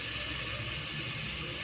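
Tap water runs steadily into a sink as boiled tripe for bor curry is rinsed under it, a constant close splashing stream without voices.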